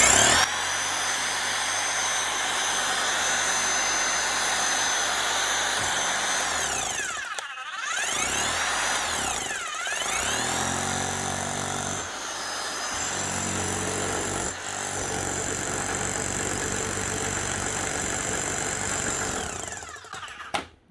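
A fully serviced electric power hammer with a new armature and motor runs on test at a workbench block, a loud steady motorized roar with a few brief dips and surges, continuous and close with no talking.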